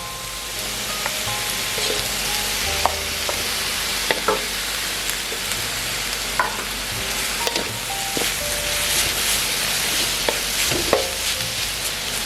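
Meatballs and pork stir-fry in a hot pan for instant noodles, with a loud continuous sizzle and scattered scraping taps of a spatula throughout.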